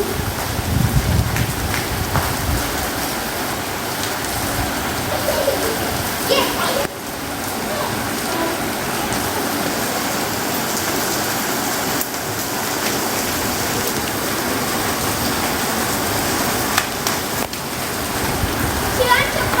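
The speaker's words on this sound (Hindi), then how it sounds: "जो जोरदार बारिश होती है, तकड़ी बारिश है भाई" Heavy outdoor downpour with a steady, loud wash of rain hitting surfaces and some wind rumbling underneath. It continues unbroken for the whole stretch, and voices faintly mix in beneath the roar.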